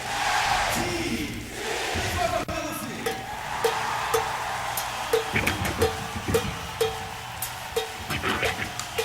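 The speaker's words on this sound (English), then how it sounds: "That is a lively crowd." A concert crowd greets a performance with a broad wash of cheering and whoops, then claps and sharp percussive hits punctuate the noise, loud and close.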